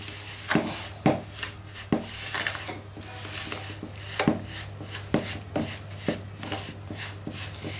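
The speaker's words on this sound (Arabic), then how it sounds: "وهبتدي احط كده حبه حبه وابتدي اعجن" Bread dough is kneaded by hand for doughnuts, with a steady hum underneath and repeated soft slaps, presses and rubbing scrapes arriving at an uneven rhythm, close and without talking.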